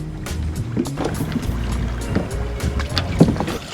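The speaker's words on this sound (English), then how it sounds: "Oh, I've got a little boat coming here." A small day sailer boat moves across the water with a steady low hum and wash, wind buffeting the microphone throughout.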